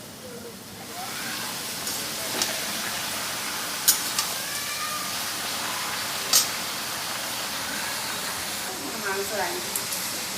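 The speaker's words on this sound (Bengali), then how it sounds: "এখানে চিকেন রান্না হচ্ছে।" Chicken cooking in a pan gives a soft, steady hiss and gentle sizzle, with a few sharp utensil clinks over the low background, while a person talks nearby.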